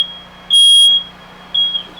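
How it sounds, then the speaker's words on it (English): A smoke alarm sounds loud and close with sharp, piercing electronic beeps, a longer tone followed by a shorter one, with nothing else heard. "If we hear the sound of the smoke alarm"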